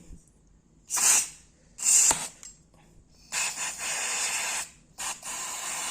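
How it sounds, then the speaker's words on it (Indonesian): Aerosol cleaner sprayed onto motorbike CVT parts during a cleanup after riding through floodwater, heard as several short hissing bursts followed by longer sustained sprays, close and fairly loud. "Kita semprot dan bersihin."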